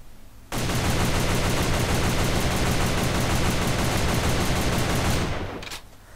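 Gunfire from an ARX-160 rifle in the video game AVA, fired from a crouched position: a loud, dense stream of rapid shot transients that runs unbroken for about five seconds, then cuts off with a brief tail.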